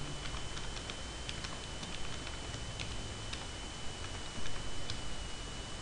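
Typing on a computer keyboard: light, rapid key clicks in an irregular patter sit faintly over a steady background hiss, with no talk.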